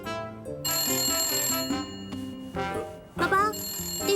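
A telephone rings indoors with a repeated electronic bell tone over background music in a drama scene, with voices heard.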